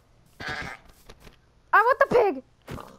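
A goat in the Minecraft video game bleats twice in quick wavering calls, close and clear, with a short sound before it and a faint one after.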